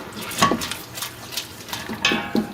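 A spoon works coconut flakes through boiling sugar syrup in a pot while making Surinamese kronto koekoe, giving close, uneven clinks and scrapes against the metal in a handful of separate strokes, with no talk.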